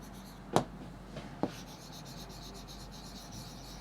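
Pen writing on paper while working a maths divisibility example: a soft, steady scratching with two sharper stroke taps, close and quiet, no talk.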